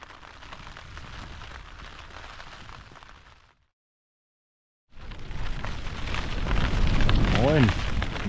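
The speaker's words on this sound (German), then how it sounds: "4 Grad Regen und mittlerweile auch Wind dabei." Steady rain falling outdoors in cold, windy northeast Iceland, a broadband hiss that cuts out for about a second and a half, then returns louder with low rumbling gusts.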